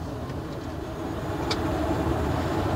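A Mercedes EQA electric car pulls away at full throttle in sport mode, heard from inside as a low, quiet road and motor hum that grows slightly louder partway through, with a brief faint whine.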